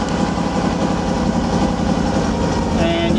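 A Chevrolet Nova car engine with EFI turns over and settles into a loud, low rumbling idle, running steadily and close by.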